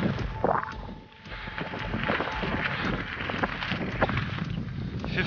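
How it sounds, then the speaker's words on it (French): Cool, humid wind gusts buffet the microphone outdoors on a hike, a continuous rushing noise with rumbling low-end bursts and a brief lull near the start. "Il fait frais, il y a du vent, très humide."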